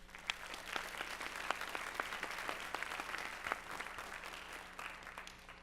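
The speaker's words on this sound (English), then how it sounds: "If we could give them a short round of applause for that." A short round of applause at a science symposium, scattered individual claps from a modest audience, fairly faint and distant, continuing steadily without voices.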